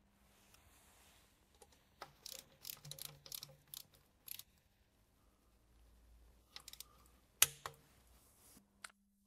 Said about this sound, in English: We will now securely tighten them in a crisscross pattern with 10 Newton meters per screw.